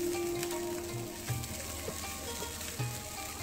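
Capsicum and shredded chicken sauté in a pan, giving a soft, continuous sizzle with a few faint clinks of stirring, no voices present.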